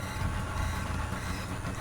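A train rolls along in Final Fantasy VII, giving a steady, loud, unbroken rumble with no voices over it.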